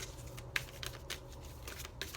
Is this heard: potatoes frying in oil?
no